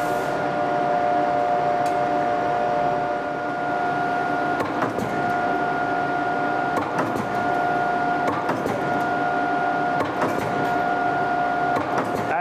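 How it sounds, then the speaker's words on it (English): A steel strip is punched into parts on a press in a workshop, giving steady mechanical hum with tonal whine and repeated sharp impact transients every second or two, continuous and fairly loud without talk. "He takes a strip of steel that he sheared in the press over here, and he's going to punch a couple parts for us."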